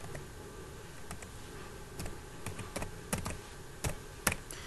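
Keys on a computer keyboard are tapped in short irregular bursts of clicks while code words are typed into a school programming exercise. The clicks are close and fairly quiet, and no one speaks over them.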